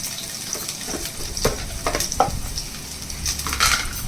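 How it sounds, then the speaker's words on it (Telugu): Oil sizzles softly as ginger and garlic fry in a pan for veg manchurian, a utensil stirring with occasional scraping knocks, close and fairly quiet, no voices. "ఇవి కొంచెం బాగా ఆయిల్లో ఫ్రై అవ్వాలి"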